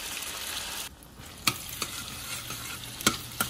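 Couscous is stirred into a hot frying pan with fried onion roots, giving a steady close sizzle broken by a few sharp scraping stirs, with no talking.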